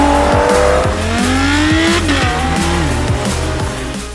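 McMurtry Spéirling electric supercar driving fast at a supercar festival, a loud rising electric whine with tire squeal and rushing road noise sweeping past close by.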